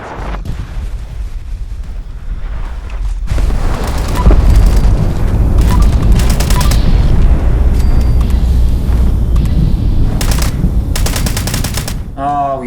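Rapid, sustained gamma gun fire in the video game Fallout 76: a loud, dense roar of gunfire-like bursts that swells partway through and stays heavy, with brief sharper cracks near the end.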